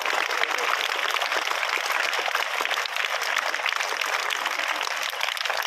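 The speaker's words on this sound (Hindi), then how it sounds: "तालियां बजती रहे।" Schoolchildren clap together at an Independence Day flag ceremony on a school campus, a dense, steady patter of many hands sustained loudly throughout without pause.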